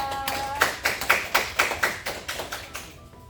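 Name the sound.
class clapping hands for a student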